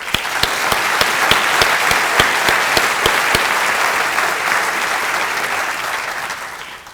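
Loud, sustained audience applause in a hall during a medical school address, with a few sharp, distinct claps standing out over the dense, even clapping.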